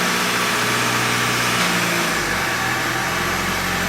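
Car engine with a European 4motion transmission as it downshifts while driving, a loud steady drone with a drop in pitch around the shift, no talk.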